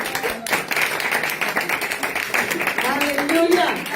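A church congregation clapping: steady, rhythmic applause from a crowd, mixed under a loud voice speaking or chanting.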